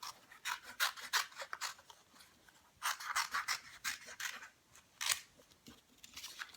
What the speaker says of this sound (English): I'm going to cut around the image on the line.